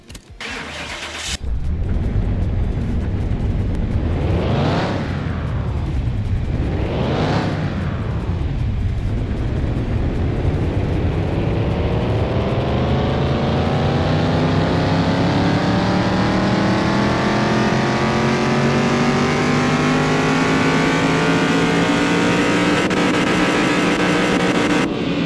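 A virtual car engine in Car Mechanic Simulator 2021 starts, revs twice in quick swells, then winds up in one long, steadily climbing run on a dyno, loud and continuous with no talk.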